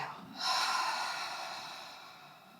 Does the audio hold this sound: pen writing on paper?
no